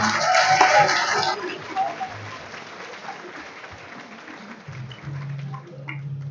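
A round of applause from an audience at an engineering competition heat, a burst of clapping that starts loud and quickly thins, then fades under low murmur and background noise.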